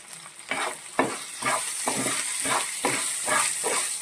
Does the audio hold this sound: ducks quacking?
no